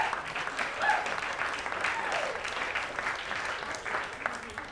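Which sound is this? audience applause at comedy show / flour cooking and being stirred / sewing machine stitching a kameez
audience applause at comedy show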